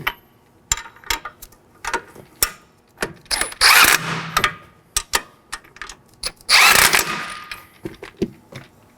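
Wrench with a 21mm socket snugging the front strut nuts on a 2013-2019 Nissan Sentra, giving repeated sharp ratcheting clicks in short bursts, with two longer louder mechanical rasps, close up and without talk.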